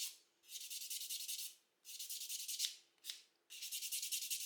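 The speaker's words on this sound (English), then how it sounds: "So I'm just going to use the buffing block," Buffing block rubbed back and forth over fingernails while prepping dip powder nails, heard as three bursts of close, steady scratchy strokes separated by short pauses, with no talking.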